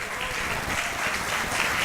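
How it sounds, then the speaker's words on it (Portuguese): A church congregation clapping together during a sermon, a brief dense wash of applause from many people, even and fairly loud from start to finish. "Aplauda o Senhor e glorifica o nome de Jesus."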